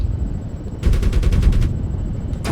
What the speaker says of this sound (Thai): นี่ยิงไปแล้ว จรวดกำลังพุ่งไปหาเป้าหมาย